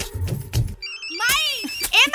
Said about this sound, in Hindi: माई ए माई बाबूजी के फोन।